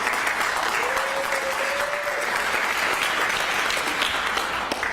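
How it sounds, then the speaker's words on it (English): Steady applause fills a Portland mayor's State of the City address, a broad sustained wash of many hands clapping at even loudness for the full stretch, with a brief tonal voice or whistle near the start. "I see Councilor Canal clapping the most"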